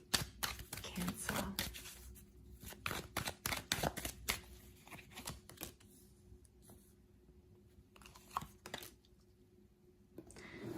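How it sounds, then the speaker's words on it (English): Tarot cards are shuffled by hand in quick, crisp riffling bursts, close and fairly quiet, then thinning to scattered taps and flicks with brief pauses in between. "let's give the cards a good shuffle"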